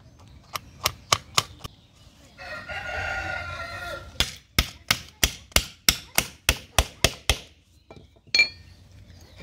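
Nails hammered into a homemade gardening tool made from discarded materials: a quick run of sharp, ringing blows, then a pause with a brief scraping shuffle, followed by a longer steady series of about a dozen evenly spaced close strikes and one final knock.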